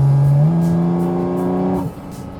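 A 2023 Porsche 718 Cayman GT4 RS engine revs hard under acceleration on a tarmac road, its loud rising tone climbing steadily through the gear before cutting off sharply near the end.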